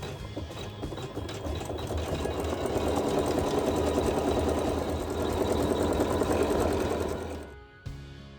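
A sewing machine doing quilting runs steadily and close for about seven seconds, its rapid needle rattle and motor hum continuous, then stops with a light click.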